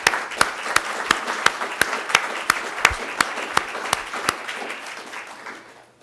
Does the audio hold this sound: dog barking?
no